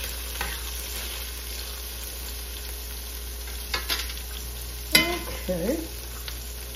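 Lemon garlic butter lamb chops fry in a pan on the stove with a steady moderate sizzle, punctuated by a few utensil scrapes and clinks, with a brief spoken word.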